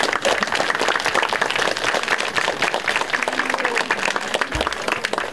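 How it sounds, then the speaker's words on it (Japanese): A festival crowd at the Kanokaen celebration at Tachibana Shrine claps in loud, sustained applause, dense and close for the whole stretch, with a few voices mixed in. "千々岩中学校吹奏楽部海神楽保存会の皆さんにもう一度大きな拍手をお願いいたします"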